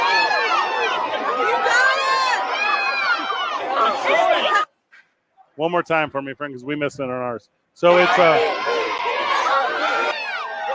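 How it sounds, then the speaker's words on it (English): A soundbite of a crowd of kids cheering and shouting plays loudly, stops while someone talks briefly, then the excited cheering returns. "just a bunch of kids cheering, right?"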